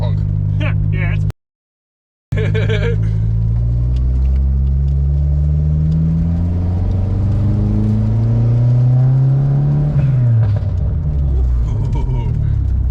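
Dodge SRT-4 engine, a worn car with recently fixed fuel problems, running with a choppy, loping idle that rises and falls. It is close and loud, with a brief dropout near the start and faint voices early on.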